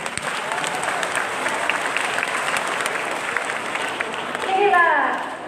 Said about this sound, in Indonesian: kita beri tepuk tangan yang meriah dulu